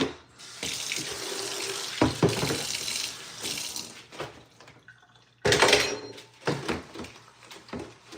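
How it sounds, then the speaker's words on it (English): Items being rinsed under a running tap at a sink, a steady splashing water stream that breaks off briefly in the middle, then resumes loudly with shifting splashes. "I also need to make sure I rinse these properly because I don't want any soap buildup."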